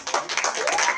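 Attendees at a student government legislative meeting clap briefly, a short burst of scattered, close hand claps.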